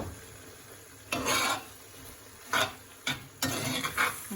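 A spoon stirs soy sauce, rice vinegar and Korean chili paste sauce in a pan for a tofu stir fry, several short scraping bursts against a quiet low sizzle.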